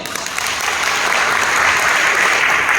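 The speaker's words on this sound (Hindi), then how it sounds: "ताली होनी चाहिए।" Audience applause in a hall during a motivational speech, loud and dense clapping from a large crowd that rises slightly and continues throughout.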